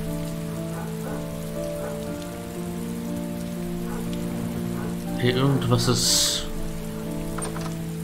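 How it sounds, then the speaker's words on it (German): Steady rain pours down in the video game Heavy Rain, a continuous wash of drops beneath a low tonal hum, while a person speaks briefly over it midway. "Ach, es gießt."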